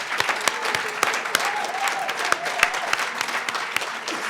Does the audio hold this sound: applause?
yes